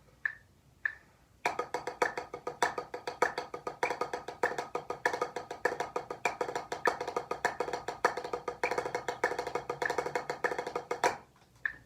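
Rapid paradiddle sticking on drums rolls along at a quick tempo, dense even strokes with accented hits, after two isolated taps at the start.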